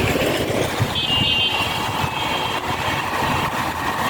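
A loud, steady engine drone with a rough low rumble, heard up close while riding, with some wind noise.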